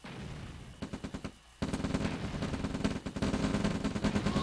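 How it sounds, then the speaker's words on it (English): Rapid bursts of rifle gunfire from a brigade of riflemen assaulting an expansion refinery in a real-time strategy game, crackling in dense repeated volleys that grow nearly continuous, with no talking. "Giant brigade of riflemen against Nico's expansion"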